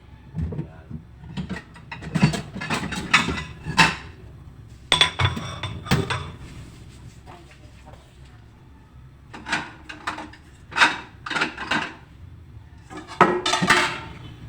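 Plates and dishes clatter and clink in bursts, with clattering handling sounds close by and brief pauses between.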